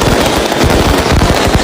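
Firecrackers going off at a firecracker storage shed during festive celebrations, a dense, continuous crackle of rapid loud bangs with no pauses, close and loud throughout.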